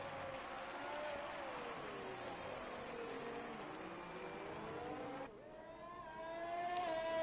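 Onboard engine of a Racing Point Formula 1 car in F1 2020 at a Canada round, a high whining tone that rises and falls through gear changes, with a brief dip before the revs climb again.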